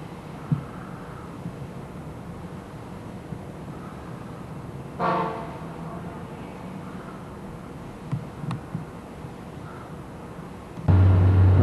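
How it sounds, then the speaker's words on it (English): The Grand Republic ferry pulls out of the harbor under a steady low rumble of engines and water. A brief horn-like tone sounds midway, and a heavy thump comes near the end. "the ferry boat, pulling out of the harbor."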